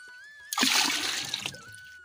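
Soaked wheat is squeezed by hand in water to make chik, a single close watery squelch and splash lasting about a second, set against quiet background.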